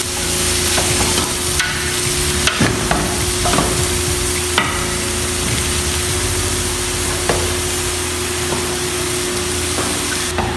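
Beef intestines and tripe sizzling in a pan while being stirred, a steady close fry with scraping stirs and sharp utensil clicks against the metal throughout, no talking.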